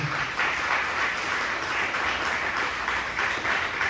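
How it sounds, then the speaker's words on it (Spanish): A church congregation gives a hearty round of applause to the Lord during a sermon, a steady wash of many hands clapping close by for the whole stretch. "Denle otro fuerte aplauso al Señor"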